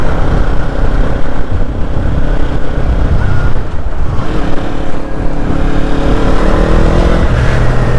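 A motorcycle pulls through its gears in third on a twisting road. The engine drones loudly under heavy wind rush, and its pitch dips and climbs again at each shift. No one speaks.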